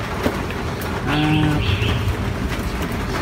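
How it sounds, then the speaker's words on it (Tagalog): Pigeons coo softly amid a noisy background, with one clearer low cooing call rising in the middle. "Ayan yung ating mga kalapati ngayon."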